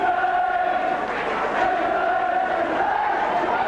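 A rugby league crowd at a St Helens versus Sheffield match, with the home side trailing late on, roars in a sustained, swelling cheer that rises and falls slightly, loud and dense across the whole moment.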